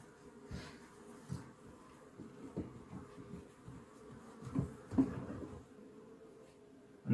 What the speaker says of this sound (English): There are more bees in here than last week.